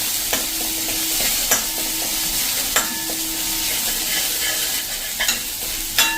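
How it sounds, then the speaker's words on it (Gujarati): Steady, loud sizzling of 10 to 12 curry leaves and spices frying in a pan over a medium gas flame for a bottle gourd kadhi, with occasional sharp clinks of a stirring spoon. "અને એક લીમડાના 10 થી 12 પત્તા નાખી અને આને આપણે કૂક થવા દેશું"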